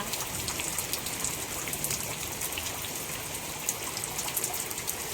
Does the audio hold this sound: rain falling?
yes